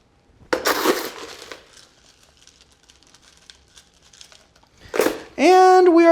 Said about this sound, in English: we're just gonna fill the rest of the tub with pebble ice